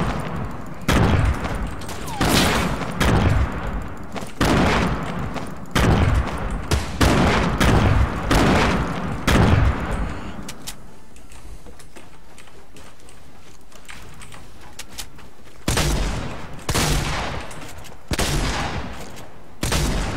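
Gunfire crackles in a solo Fortnite battle royale match, with repeated loud, close bursts of rapid shots separated by short pauses and a quieter gap midway before the shooting resumes.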